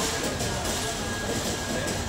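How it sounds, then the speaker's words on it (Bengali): Saraighat Express pulling slowly out of platform 9 at a station, a steady broadband rumble of rolling rail cars with a thin sustained tone above, continuous and fairly loud with no voices. "দেখুন ট্রেন ছেড়ে দিল আমাদের, তার নির্ধারিত সময় থেকে 5 মিনিট দেরি করে ট্রেন ছেড়ে দিল।"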